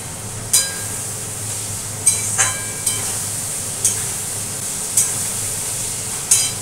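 Food frying in a pan at home gives off a steady sizzle and hiss, broken by sharp clinks of a utensil against the pan at irregular intervals, close and fairly loud with no talking.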